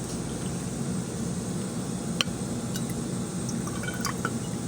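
Water is poured into a new freshwater fish tank, a steady close trickle and splash with a few brief drips, and no one speaks.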